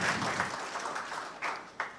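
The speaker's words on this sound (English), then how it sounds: "So a big round of applause for everyone." Audience applause at a talk by a UPSC topper, a soft, distant wash of clapping across the whole stretch, fairly faint, with a couple of sharper bursts near the end and no voices.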